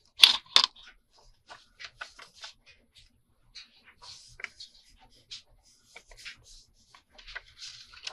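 Calendar page paper being cut in half with scissors: two loud close snips up front, then a string of softer crisp cuts, rustles and paper scrapes spread through the quiet.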